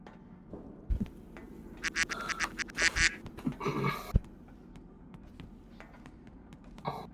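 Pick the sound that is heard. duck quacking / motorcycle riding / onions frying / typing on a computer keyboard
duck quacking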